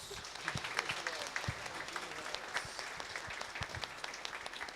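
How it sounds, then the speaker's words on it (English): Congregation applause at a Good Friday church service, a steady wash of many hands clapping with scattered sharper claps throughout, moderately loud and sustained. "Let us give them a big round of applause."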